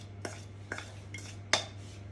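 A spoon clinks and scrapes against a bowl four times while mixing a spicy autumn casserole with whole cloves, pimento and ginger, each knock sharp and close with a low steady hum underneath.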